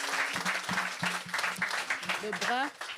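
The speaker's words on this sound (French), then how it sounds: "Acclamons pour Jésus" A church congregation applauds for Jesus during a healing testimony at a baptism service. The clapping rises in bursts while a voice speaks over it.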